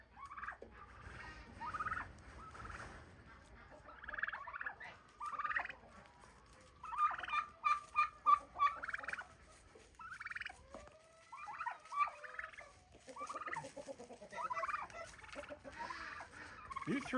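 Several turkeys on a small farm gobble in rapid, warbling bursts, overlapping and repeating throughout, some near and some farther off.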